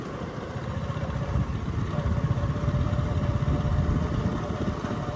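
A motorbike is ridden along a jogging track, its engine a steady, fairly close rumble with wind buffeting and no talking.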